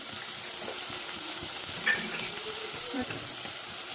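Tomatoes and turmeric sauté in a pan, a soft, steady sizzle with faint occasional clicks, fairly quiet and with no talking.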